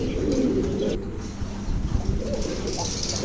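Pigeons at a wholesale pigeon market in Kushtia give low cooing under a busy, noisy background, close and fairly steady throughout.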